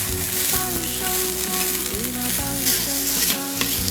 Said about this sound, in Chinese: 溜辣椒，炒个洋芋丝。